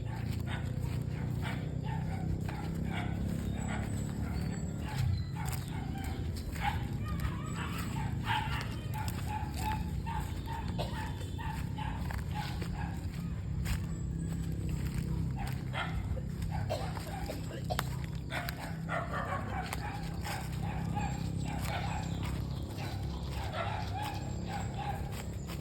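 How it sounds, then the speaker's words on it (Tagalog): A dog whimpers and whines in a steady, continuous stretch at close range, with other voices and outdoor noise mixed in underneath. "Iyakan na yung aso mo oh."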